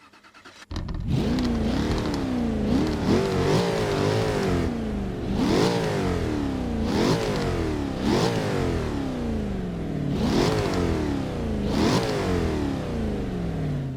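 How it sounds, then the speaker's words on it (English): A Jaguar F-Type Project 7 engine in Forza 6 is revved repeatedly, sharp rising blips and falling overrun about every two seconds, loud and close, with no talk over it. "I need to rev this up, guys."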